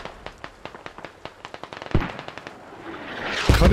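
Smoke mortar rounds landing in the military shooter game Squad, a rapid series of sharp distant pops and cracks followed by two heavier thumping impacts and a rising rush of noise.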